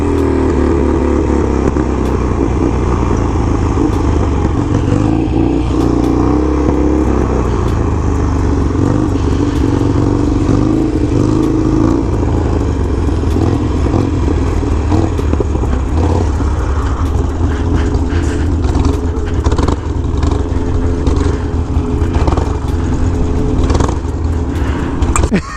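A motorcycle engine roars continuously and loudly while being ridden, its revs rising and falling with wind rush and road clatter throughout.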